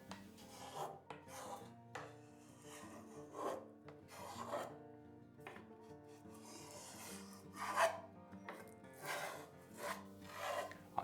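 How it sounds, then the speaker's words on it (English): A blade edge of a wooden paddle is shaved by hand near the shaft, with soft, quiet rasping strokes repeating in uneven bursts, close by and with no talk. "Here I'm shaving a bit off the edge of the blade to make it blend nicely into the round shape of the shaft."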